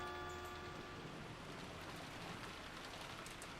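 Soft, steady patter of rain with a faint rumble beneath, heard as classroom ambience in a visual novel game and continuing evenly without any voices.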